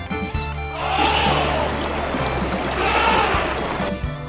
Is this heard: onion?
no